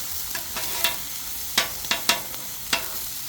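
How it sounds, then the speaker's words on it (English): Eggs being scrambled on a Blackstone flat-top griddle, with a steady close sizzle broken by several sharp scraping clicks of a spatula on the hot steel, and no voices. "Next we're going to get those eggs scrambled up."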